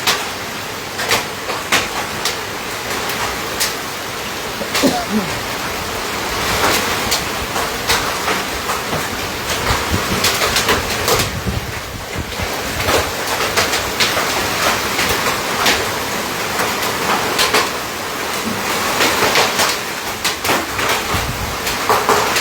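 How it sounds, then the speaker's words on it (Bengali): Dense, irregular clattering of hailstones pelting a hard surface during a Kalbaishakhi storm, a constant rattle with sharper cracks scattered throughout, loud and close. "শিলাবৃষ্টি যে হচ্ছে আপনাদেরকে দেখানোর চেষ্টা করতেছি যে প্রচুর পরিমাণে শিলাবৃষ্টি হচ্ছে"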